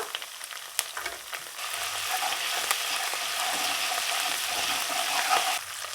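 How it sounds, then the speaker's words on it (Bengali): Ginger and garlic paste sizzles steadily in hot oil, a continuous close frying hiss with occasional sharp stirring knocks from the utensil against the pan. "আদা বাটা রসুন বাটা হালকা একটু ভেজে নেব"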